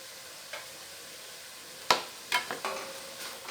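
Onions are stirred in a frying pan over a faint sizzle, with a few sharp spoon taps and scrapes in the second half.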